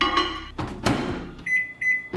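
Microwave oven heating a small dollop of Danish meatball mixture in a ramekin: door clunk and button presses, then a close, steady hum with a high electronic whine.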